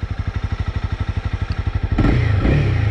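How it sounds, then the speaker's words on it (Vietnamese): A 2019 Honda CB300R motorcycle exhaust thumps in a steady, rapid idle pulse, then the engine is revved up louder and rougher, close by. "Nghe đi thử tiếng ống xả nhá."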